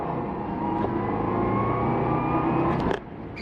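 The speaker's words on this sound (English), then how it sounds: "I just hit a snow patch and spun all 4 tires there." A 2004 Subaru WRX engine revs hard with a steadily rising whine as all four tires spin on a snow patch, loud and close, then the sound drops off abruptly near the end.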